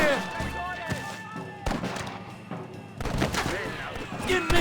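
Gunfire in the Red Dead Redemption Western game: sharp shots and bursts ring out irregularly across a busy scene, with a voice shouting briefly between the blasts.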